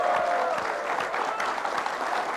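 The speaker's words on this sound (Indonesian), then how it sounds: "Iya, tepuk tangan untuk Bung Fajrul" A seated audience at an Indonesian talk event applauds for Bung Fajrul with dense, steady clapping throughout, moderately loud and close.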